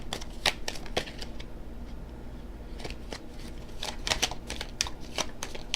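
Tarot cards are shuffled and riffled in quick, crisp bursts of flicking and snapping, close to the microphone over a quiet room hum.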